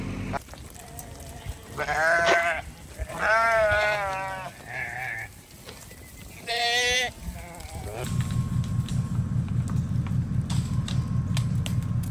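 Several loud, wavering Spanish goat bleats close by, spaced apart, followed by a steady mechanical rattling hum.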